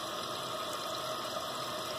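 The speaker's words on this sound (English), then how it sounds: "I let it put a little bit more water in just to help it have a little more water when it flushes" A toilet tank refilling its bowl after a repair for a running leak, giving a steady, close hiss and rush of water that holds evenly for the whole stretch with no pauses.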